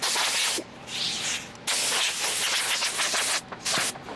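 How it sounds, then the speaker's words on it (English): Spray adhesive hisses out of a can in steady bursts while insulating a garage door, with short breaks between sprays, loud and close. "I'm going to use this spray adhesive."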